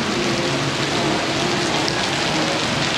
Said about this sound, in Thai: ตอนนี้เราต้องหลบฝนก่อนแป๊บนึง